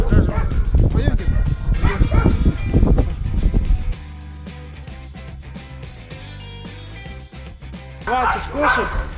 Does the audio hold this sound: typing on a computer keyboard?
no